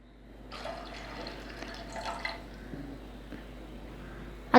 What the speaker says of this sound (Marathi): आता यामध्ये आपण आता पाणी घालूया.